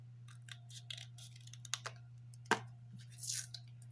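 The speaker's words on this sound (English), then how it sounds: "So I need to cut this part." Scissors cut a small piece for a handmade action figure, giving quiet close snips and rustles, with one sharper crisp cut partway through.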